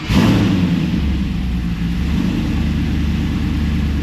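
WS6 Trans Am engine running steadily with a deep, continuous low rumble, loud and close, with a slight dip in the middle and no clear rev spikes.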